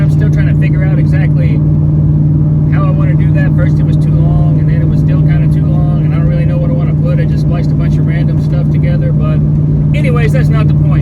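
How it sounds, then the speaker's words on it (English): A work truck engine running without mufflers gives a loud, steady low drone with a strong hum throughout, under continuous close talking by a man. "I'm in my work truck, so it doesn't have any mufflers on it."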